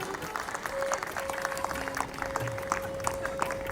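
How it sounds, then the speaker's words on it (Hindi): Crowd applause at an eighth-anniversary celebration in Vadodara, dense continuous clapping from a sizeable audience with a thin steady tone running over it, moderately loud and sustained. "अभी तालियां बजाओ, जोरदार तालियां।"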